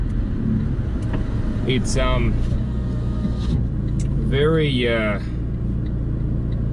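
Fiat Abarth 695 Tributo Ferrari engine running while driving, a steady low rumble throughout, close and continuous beneath someone talking.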